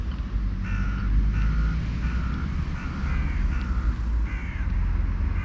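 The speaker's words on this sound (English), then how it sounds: "crows look great." Several crows caw in repeated short bursts over steady low outdoor rumble, likely traffic or a distant aircraft, with the calls fairly close and clear.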